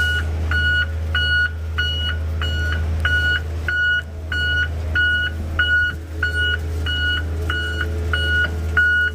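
A concrete pump truck backs into a tight site, its reversing alarm repeating evenly about every half second over a low steady engine rumble, with no one talking.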